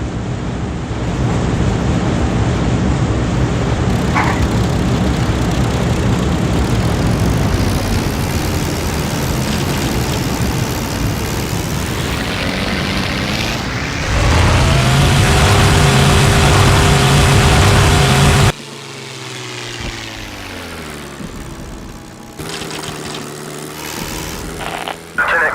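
Propeller engines of a WWII fighter plane in a Heroes of the Pacific mission rev up from a steady drone to a louder, rising roar, then cut to a lower, changing engine hum near the end.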